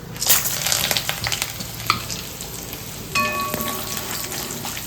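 Steady crackling sizzle of urad dal, dried red chillies, peanuts and curry leaves hitting hot oil, with occasional sharp pops and a brief metallic clink partway through.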